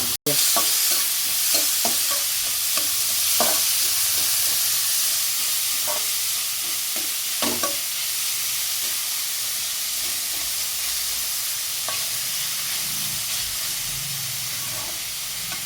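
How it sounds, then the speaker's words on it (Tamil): Onion and chili sautéing in a pan of popped mustard seeds for bitter gourd poriyal give a steady close sizzle, with a sharp clack at the start and scattered scraping stirs throughout, without talk. "கடுகு பொரிஞ்சிட்டுது, வெங்காய மிளகாய் போட்டலாம்ல."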